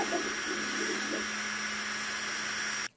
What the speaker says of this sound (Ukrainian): І самий шумливий тут вентилятор обдува моделі.